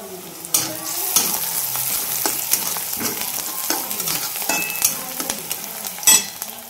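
Onion frying in a pan gives a loud, close sizzle broken by repeated clicks and scrapes of a spatula stirring, with no talking.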